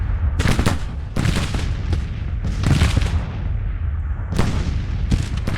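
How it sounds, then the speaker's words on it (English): Artillery cannons fire in a Grand Tactician: Civil War battle, a series of heavy booming blasts in irregular bursts, loud and close, each trailing into rumbling echo over a continuous low battlefield roar. "Artillery's firing hot now"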